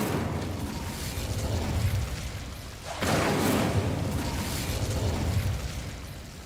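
In Hogwarts Legacy, the Incendio fire spell makes a loud whooshing roar of flame. It starts at once, dips briefly, then bursts up again near the middle and stays strong before fading slightly at the end.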